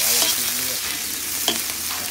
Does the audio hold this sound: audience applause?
no